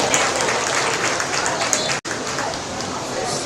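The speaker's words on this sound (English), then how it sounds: "Let's give them all a big round of applause" Spectators at a county sheep showmanship and market lamb show give the top class placers a big round of applause, dense steady clapping under an announcer's voice, with a brief dropout midway.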